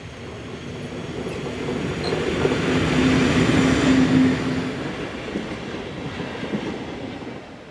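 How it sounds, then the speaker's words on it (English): Swiss pickup freight train passing on the Olten to Oensingen main line, a steady rumbling roll with clattering wheels that swells to a loud peak mid-pass, with a faint squeal, then fades slightly. "is operating this pickup freight and will work to the sidings at Wangen by Olten"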